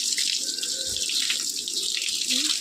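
A steady rush of water sprays from a pressure hose onto a buffalo being bathed, a continuous hissing splash with no voices.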